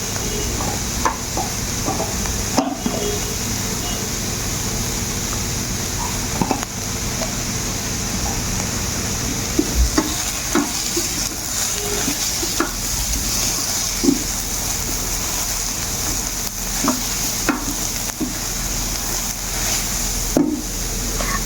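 Carrot halwa fries in ghee while being stirred in a pan over medium-low heat, a steady soft sizzle with scattered scraping and clinking of the spoon, close and continuous.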